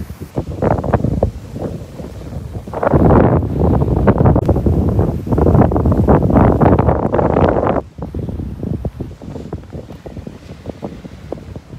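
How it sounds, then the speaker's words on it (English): A strong east wind blows straight into the microphone by the sea, a loud, rough rumble that surges in gusts, peaks for several seconds, then drops back to a lower roar. "There's a very strong east wind blowing."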